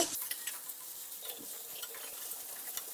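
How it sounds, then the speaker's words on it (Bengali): Chopped bottle gourd peel and carrot fry in a pan while a utensil stirs them, giving soft scraping strokes and a few light taps over a quiet, low sizzle with no talking. "একটু নেড়ে চেড়ে নিব সেই সাথে দিয়ে দিব গাজর কুচি আবারও একটু নেড়ে চেড়ে নিব"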